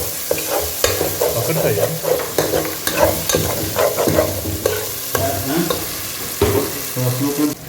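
Close, loud stirring of frying masala for a chicken liver gravy, with repeated scraping and clinking of a spoon in the pan over a steady sizzle and a brief word spoken.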